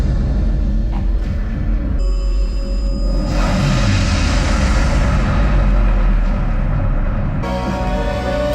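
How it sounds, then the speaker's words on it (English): Drone hum with a thin high whine, carried over a loud, dense wash of crowd and show noise aboard the Icon of the Seas cruise ship during an outdoor show called Starburst, steady throughout with no speech. "Oh, it's a drone."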